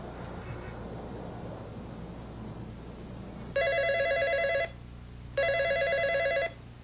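A telephone rings twice in steady electronic trills, each lasting about a second, loud over a low background hum.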